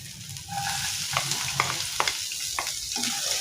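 Chinese sausage, dried meat and dried shrimp sizzle in a pan for turnip cake, a steady frying hiss broken by scattered clinks and scrapes of a utensil stirring, close and without speech.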